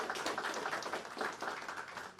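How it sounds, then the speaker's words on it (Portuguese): A seated audience at a business talk on corporate governance claps for a consultant, a soft, continuous patter of many hands heard from a distance and fairly quiet. "vou pedir para Miriam Moraes uma salva de palmas para você"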